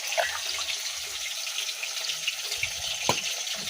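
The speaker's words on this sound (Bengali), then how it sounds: "এক ফোঁটা জল দিয়ে দিই" Water trickles and splashes into a cooking pot in a home kitchen, a short steady pour with a brief louder splash near the end, no talking.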